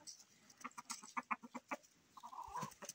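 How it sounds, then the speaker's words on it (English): A rooster clucks in a quick series of short, soft calls, then gives a longer low croon, close and fairly quiet. "Green Bean, my comfort rooster"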